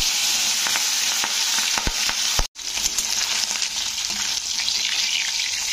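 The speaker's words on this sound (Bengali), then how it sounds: "তো এবারে মাছগুলোকে আমি ভেজে নিচ্ছি।" Pieces of kalibaus fish frying in hot white oil produce a bright, continuous close sizzle with scattered crackles and spits, broken by one very brief gap before the hiss resumes, and no one speaks.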